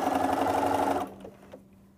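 A sewing machine runs a zigzag stitch, giving a steady, close mechanical whir for about a second before it stops, leaving faint clicks and quiet room noise.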